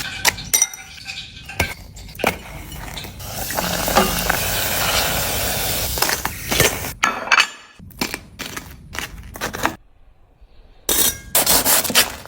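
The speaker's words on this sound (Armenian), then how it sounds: "Այնուհետև խորը տապակեք" Chocolate-stuffed bread coated in egg and panko deep-fries in oil with a sustained bubbling sizzle through the middle. Sharp clinks of dishes and glass come before and after, with a short quiet pause near the end.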